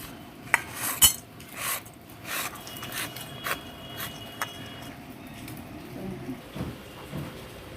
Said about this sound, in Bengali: গরম মশলা ছেঁচে নিলাম।